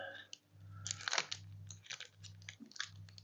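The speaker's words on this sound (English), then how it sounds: "The last thing we need to do is try one of the two chewing gums." Chewing gum from a Lithuanian MRE ration pack is chewed up close, with soft, faint crunching and smacking over a low hum.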